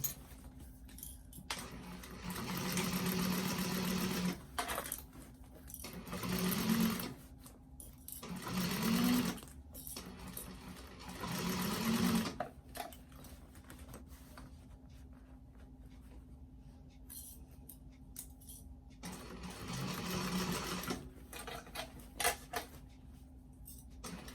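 A sewing machine stitches its way around the inside of an expandable fabric tote bag in several separate runs of close, steady motor hum and needle clatter, with quieter pauses for adjusting the fabric.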